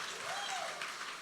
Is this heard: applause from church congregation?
yes